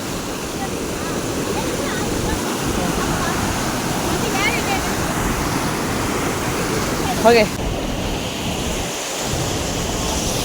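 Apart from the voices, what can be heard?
rain falling outdoors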